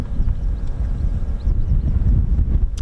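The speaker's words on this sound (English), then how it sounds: "Goodness me, it is extremely windy here." Strong gusty wind buffets the microphone at the RAF Holbeach air weapons range, a loud, low, rumbling roar that surges and eases in irregular bursts.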